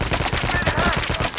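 Rapid automatic gunfire from a Call of Duty battle royale match in first-person mode, loud, dense bursts of shots running continuously through the clip.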